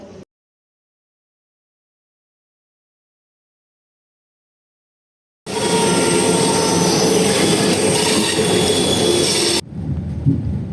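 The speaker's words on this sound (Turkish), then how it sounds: "Eski model bir tren olduğunu tahmin ediyorum." After several seconds of silence, a loud old train rumble bursts in with clattering wheels and high squealing, then cuts off abruptly to quieter background noise.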